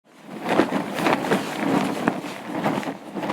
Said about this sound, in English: it's actually just a duvet that was shaken by me in the bedroom